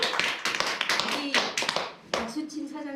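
Seminar attendees clap in a short, uneven burst of close, sharp handclaps, mixed with talking voices.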